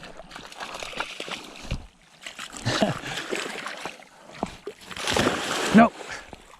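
A Blue Heeler dog splashes and sloshes in a ranch pond close by, with bursts of churning and a heavier splash near the end, while a voice talks over it.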